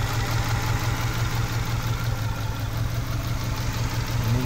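A 2004 Subaru engine idles steadily with a low, continuous hum and a constant hiss, close and unchanging, with no voices.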